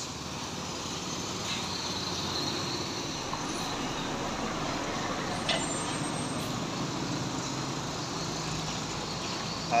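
An Aceh bus rolls past on a morning road in Tanjung Pura, a broad steady roar of engine and tyres that holds fairly even throughout, with a faint rise near the end.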